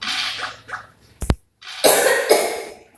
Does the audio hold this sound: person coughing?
yes